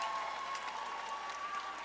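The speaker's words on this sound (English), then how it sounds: "Another round of applause for these two guys." A crowd applauds two fighters after a bout that went the distance, with steady clapping throughout and a low murmur of crowd noise and no talk over it.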